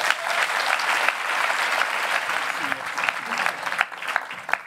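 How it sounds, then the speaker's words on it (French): A television studio audience applauds steadily and loudly to welcome two guests, a lawyer and a journalist, onto a French debate show about police violence, with a few isolated claps standing out toward the end. "Et je vous demande d'applaudir Slim Ben Achour et David Dufresne."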